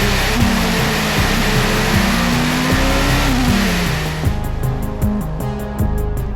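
A race car at the 2019 4 Hours of Le Castellet screams up through the gears, loud and close, its engine pitch climbing steeply then dropping at each shift in a repeated rising pattern.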